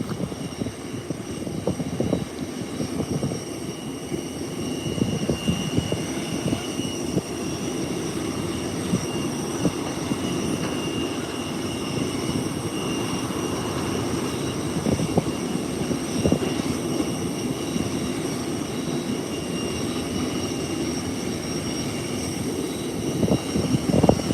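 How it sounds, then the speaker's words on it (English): An American Airlines airliner being pushed back from its gate at an airport, heard as a steady, loud rumble of jet engines and ground equipment with a faint high whine above it, continuous throughout and without talking. "here comes American Airlines being pushed back"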